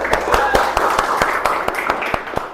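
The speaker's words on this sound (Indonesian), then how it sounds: "Semangat dulu. Tepuk tangan dulu." A group of women claps hands together in a quick, even rhythm, a dozen crisp claps in under three seconds, with a bit of background murmur.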